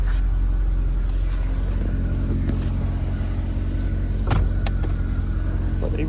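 Mercedes S63 AMG with a naturally aspirated 6.2 liter V8 idling steadily up close, a continuous low rumble with a couple of brief sharp clicks partway through.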